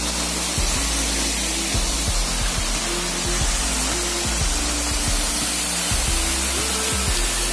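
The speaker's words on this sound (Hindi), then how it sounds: "बहुत बड़ा वाटरफॉल है हम भी हैरान हो गए देख के" Large waterfall near Khajjiar and Dalhousie in the Himalayan hills, a loud, dense, continuous roar of falling water that fills the whole scene at close range with no letup.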